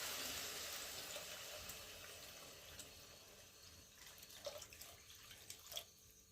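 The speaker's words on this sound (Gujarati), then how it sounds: "અને હવે જો મિત્રો આપણે એમાં નાખવાના છે પાણી" Water is poured into a pot for Maggi noodles in a village kitchen, a faint, soft splashing pour that trails off into a few drips.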